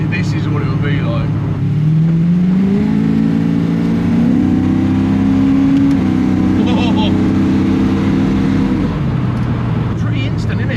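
A BMW E21 fitted with a 5.8-liter Chevy V8 and roller camshaft revs up from a deep idle, holding a loud, rising engine note for several seconds before dropping back to a rumbling idle, close by.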